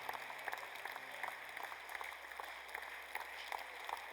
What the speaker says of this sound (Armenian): բարձր ծափարենք մեր Աստծուն, սիրելիս